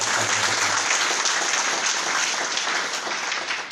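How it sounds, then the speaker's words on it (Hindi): Audience applause fills a college hall during a blood donation camp event, a dense steady wash of many hands clapping at close range that keeps going at an even level from start to finish. "आप ताली बजा सकते हैं"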